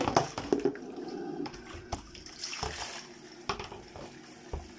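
Water runs and splashes in a kitchen sink while vegetables are rinsed, with soft trickling, scattered drips and light clattering of the produce by hand, fairly quiet and close.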